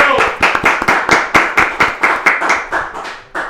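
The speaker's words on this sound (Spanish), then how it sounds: "Lo recibimos con un fortísimo aplauso." A studio audience gives a loud, close burst of rhythmic clapping to welcome a guest on a Paraguayan television program celebrating Guaraní Language Day, with crisp individual claps about four per second before it stops abruptly.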